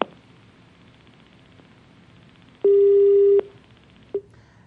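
A telephone line goes dead after a dropped call, leaving a faint hiss, then a single loud, flat tone lasting under a second, followed by a brief short beep.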